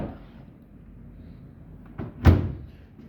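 The door of a 2022 Bosch Serie 8 WAW325X0EG washing machine is pushed shut, a faint rustle followed by one firm, close thunk as the latch catches, with no voices.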